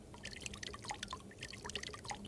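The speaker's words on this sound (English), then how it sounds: "I'll just add the rest of this water" Water poured onto plants in the video game Ghosts of Tabor, heard as a quiet run of irregular drips and splashes trickling steadily, with no talk over it.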